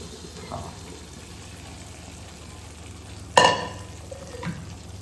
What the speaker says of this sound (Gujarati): આપણે કઢાઈમાં બાફેલા વટાણાને એડ કરી લઈશું